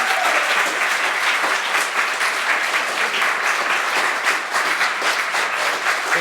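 Sustained, dense applause from a crowd at a business awards ceremony, loud and even for several seconds with no break and no talk.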